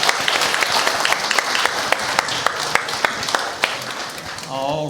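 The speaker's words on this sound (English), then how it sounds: "Big round of applause." An audience gives a round of applause after a pitch at a women's pitch competition, with crisp individual claps standing out from the crowd. The clapping stays steady before a voice comes in at the very end.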